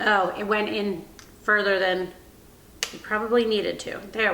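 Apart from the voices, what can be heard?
No everyday noises stand out.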